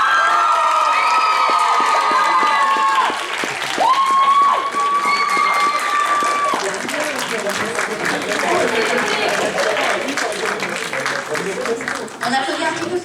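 An audience at a cosplay contest awards ceremony claps and cheers loudly and continuously, with shouts and whoops rising over the applause while an amplified voice talks over the crowd.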